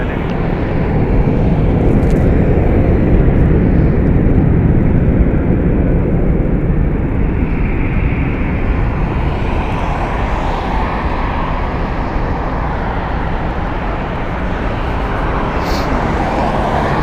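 A Golden Knights flight takes off from Las Vegas Harry Reid International Airport, a loud, sustained roar of engine noise rising and then slowly easing as the airplane departs, with no voices.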